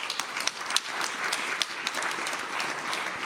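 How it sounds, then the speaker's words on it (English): A modest audience claps for the panelists after a talk on BRICS and global trade, an uneven patter of hand claps with scattered sharper individual claps, fairly light and steady. "Please join me in giving them a round of applause."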